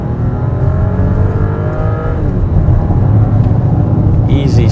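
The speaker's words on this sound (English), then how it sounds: "see how this vehicle accelerates from zero dynamic mode on" A 2025 Audi Q7 Premium Plus 55 TFSI Quattro pulls away hard from a standstill in dynamic mode, its engine note loud and near, rising in pitch then shifting as it gathers speed, a voice briefly heard at the end.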